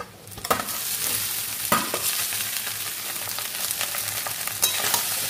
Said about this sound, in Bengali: কমিয়ে এবার পুরো ভাতটাকে ভালো করে নেড়ে একটু মেশাবো